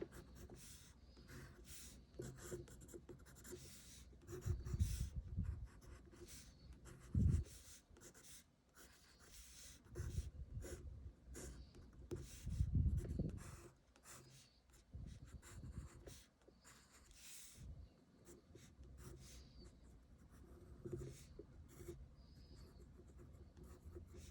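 Pencil strokes scratch across paper while a fashion garment silhouette is sketched, giving soft rubbing and scraping in uneven bursts with a few stronger strokes, close and fairly quiet, with no talking.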